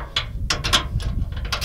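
A hand ratchet tightens nuts on a folding front seat in a VW T5 van, giving short clicking bursts in quick succession, close and fairly crisp with no talk.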